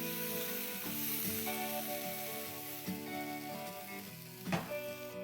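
A spice mixture sizzling over medium flame in a pan after a splash of water, a dense, continuous close sizzle with a few faint utensil taps and one louder scrape near the end.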